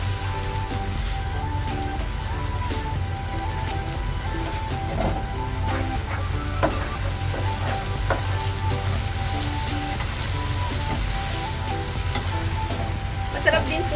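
Chinese bok choy with dried scallop and dried oyster stir-fries in a hot pan, a dense, continuous sizzle with scraping and tossing from the spatula, steady and close throughout.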